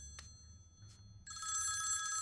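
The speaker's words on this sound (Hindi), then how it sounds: "फोन उठाएंगे तो क्या वो काट देगा?" A telephone rings loudly and steadily in a quiet room, its bright electronic ring starting after a couple of faint ticks and continuing to the end.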